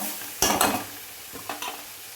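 Drumstick leaves are being sautéed for chutney, with two short bursts of a spatula stirring and scraping in a hot pan over a faint, continuous sizzle.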